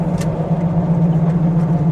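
A 10,000 pound diesel truck pulls from a stop on flat ground, its engine a steady loud low drone close by, holding even without a clear rise in pitch.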